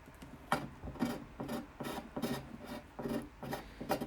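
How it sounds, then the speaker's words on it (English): A sharp knife scrapes super glue off the finish of a 1950s Musima Emperor guitar near its sound hole, giving steady, close rasping strokes in an even rhythm of about two per second. "I try to scrape off carefully as much of this super glue as I can before I sand"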